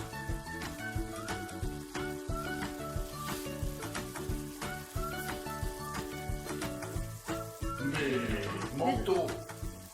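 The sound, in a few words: squid mantles sautéing in a pan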